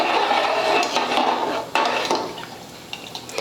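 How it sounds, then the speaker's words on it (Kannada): A pressure cooker lid is fitted and shut over mushroom biryani, with a couple of metallic clanks and scraping over a soft liquid bubbling, close up and without speech. "ಈಗ ನಾನು ಕ್ಲೋಸ್ ಮಾಡ್ತೀನಿ ನೋಡಿರಿ"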